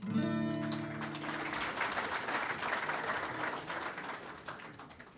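An audience applauds at the SAGO 2022 opening ceremony as a musical chord fades out, leaving sustained, moderately distant clapping that thins slightly toward the end.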